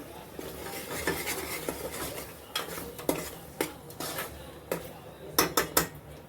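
Mixed vegetables with gram being stirred in a pan, a spoon scraping and knocking against metal in irregular strokes over a faint sizzle, with a quick run of sharp clanks toward the end; no one talks.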